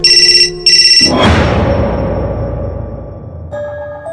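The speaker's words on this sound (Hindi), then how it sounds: "चार्ज पर लगा उसका फोन अचानक से बज उठा" A phone rings loudly in two electronic trills, then a crashing, reverberant hit cuts in and decays before a softer tone resumes near the end.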